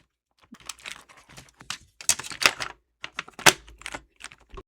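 A budget mechanical keyboard with its silicone dampening removed is typed on up close, giving bursts of sharp, clacky keystrokes with brief pauses between runs, loud and alone.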